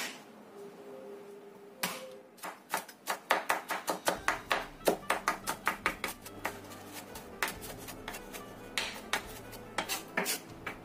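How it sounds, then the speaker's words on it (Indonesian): A knife chops five garlic cloves finely on a cutting board, giving a quick, steady run of close, crisp taps that grow denser as the chopping settles into rhythm. "kemudian kita cincang halus"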